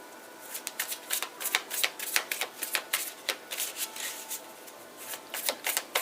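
Rapid, repeated riffling and slapping of shuffled tarot cards, close and crisp, in irregular bursts with no talking.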